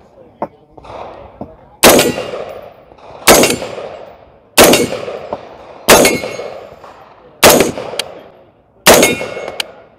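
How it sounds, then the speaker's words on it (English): DPMS DR15 AR-15 rifle fired outdoors: six loud, sharp single shots spaced at roughly even intervals, each with a ringing decay, plus faint quieter pops at the start. "been a long time since we have shot a DPMS"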